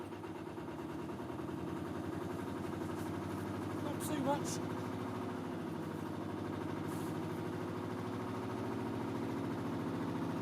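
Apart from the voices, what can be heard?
narrowboat engine running and throttled forward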